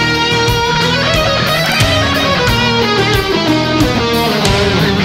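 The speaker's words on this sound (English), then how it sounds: "So the first little phrase that we've got is pretty much a rundown E phrygian dominant." A dense, continuous distorted electric guitar solo phrase runs down an E phrygian dominant scale, loud and fast with rapid note changes and no pauses.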